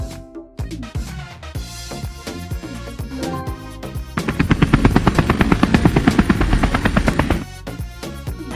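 A helicopter's rotor thumps in a rapid, pulsing beat that grows louder and closer over several seconds before fading, with a loud engine whine beneath, heard alone.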